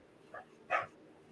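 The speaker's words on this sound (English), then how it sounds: "Can you hear my dogs fighting?" Dogs fighting and barking, heard as two brief, faint yips or barks a fraction of a second apart, distant and quiet against a low background hum.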